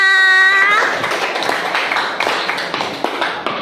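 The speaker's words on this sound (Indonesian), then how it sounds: "Tepuk tangan untuk kalian semuanya." Students clapping in a classroom, a burst of hand claps following a brief sustained tone, thinning into scattered, distinct claps that fade over a few seconds.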